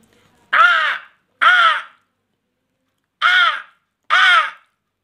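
A person imitates a crow with four loud, close caws, two in quick succession, a pause, then two more, each harsh and nasal with a downward bend.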